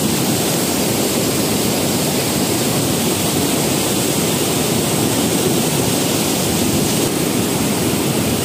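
The Godavari river runs high and swollen after heavy rain in Maharashtra, producing a steady, loud, unbroken rushing roar of water with no voices.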